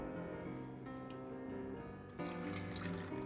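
Water pours into a pot of beef birria soup with hominy, a steady running splash that grows a little fuller partway through, heard fairly close and faint, with no talk.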